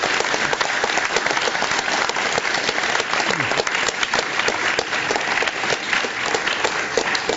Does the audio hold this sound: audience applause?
yes